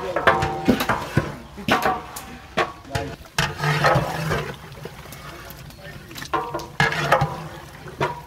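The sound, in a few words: fried chicken roasts being poured into a cooking pot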